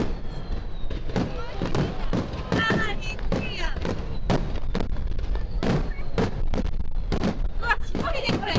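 Fireworks at World Expo 2025 Osaka burst in a rapid, irregular barrage of loud booms and crackles, with dozens of thumping explosions filling the air, and a crowd murmuring beneath.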